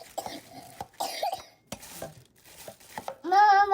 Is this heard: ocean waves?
no